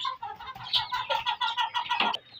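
A hen calls out over and over in a close, steady run of harsh, strained clucks with barely a pause, loud and unaccompanied by any talk.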